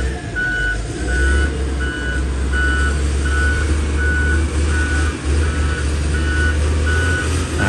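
A road roller compactor works along an earth dam crest, its reversing alarm beeping in a steady repeating pattern over a loud, constant low diesel drone, close and continuous with no talk.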